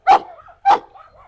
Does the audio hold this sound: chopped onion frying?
no